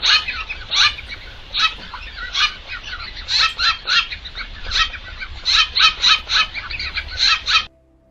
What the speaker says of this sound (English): This is one bird bullying another, but it's super cute because the birds are cute.